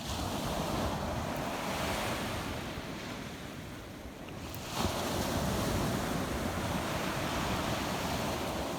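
Surf rolls steadily onto the beach at Captiva Island, a continuous broad wash of ocean waves with wind noise on the microphone, briefly easing midway before swelling back. No voices are heard.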